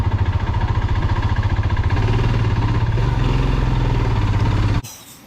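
A motorcycle engine idles close by on a mountain road near a bridge, with a steady throbbing pulse that runs for nearly five seconds before cutting off abruptly.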